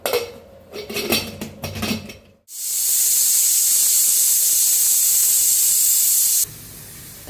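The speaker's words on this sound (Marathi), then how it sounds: "कुकर आपला चांगला शिट्टी दिलेला आहे" A pressure cooker lets out a loud, continuous whistling hiss for about four seconds, just after a brief clatter of pots and cooking noises.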